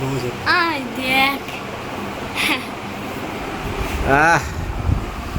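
Steady wind rushes and buffets the microphone while several voices talk intermittently over it.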